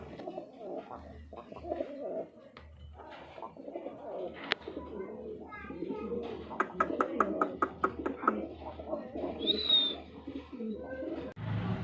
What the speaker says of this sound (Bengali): এখানে কিন্তু আরো এক জোড়া কবুতর আছে, আর এটা হলো রাজগোল্লা